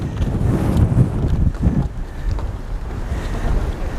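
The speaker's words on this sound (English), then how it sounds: "there's a wonderful breeze blowing across here. You can probably hear it in my microphone." Coastal breeze at Coast Guard Beach on Cape Cod buffets the microphone, producing a continuous low rumbling wind roar with gusty swells throughout.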